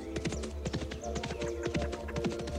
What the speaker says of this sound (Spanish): montó su caballo y a galope salió por el camino